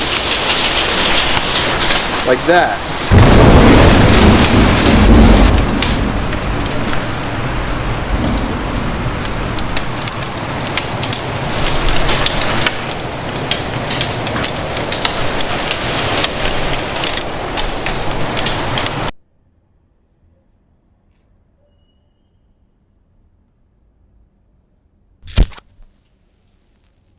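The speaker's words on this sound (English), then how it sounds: "trying to record the rain out the window, and the windows keep blowing open and getting my camera soaked." Heavy rain pours outside a window that keeps blowing open, a loud, steady drumming wash lasting about nineteen seconds before cutting to near silence and one brief knock.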